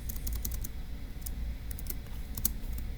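Soft, quick clicks of typing on a computer keyboard, close but quiet, coming in short uneven bursts over a low background hum.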